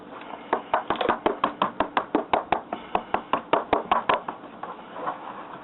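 Eggs being mixed by hand into quiche batter, heard as a fast run of close, crisp taps of a utensil against the bowl, about twenty in a steady rhythm.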